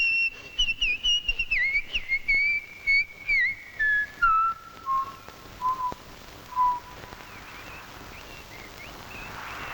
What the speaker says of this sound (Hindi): नौकर को सीटी नहीं बजानी चाहिए